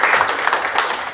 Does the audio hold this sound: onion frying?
no